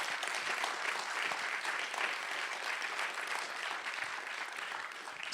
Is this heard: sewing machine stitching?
no